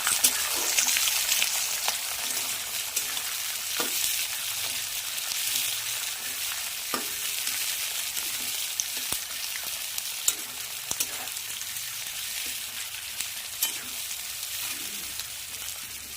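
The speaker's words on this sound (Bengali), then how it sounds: "একটু নাড়াচাড়া করে নিই" Onions frying in a pan crackle in a steady, moderately loud sizzle, broken by repeated clicks and scrapes of a spatula stirring, with no one speaking.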